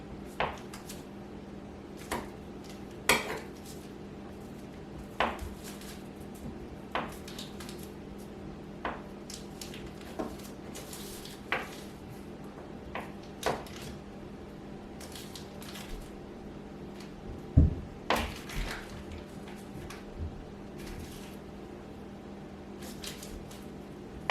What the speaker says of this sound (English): I'll cut the butter into the flour first, just to kind of get it started, and then I'll rub it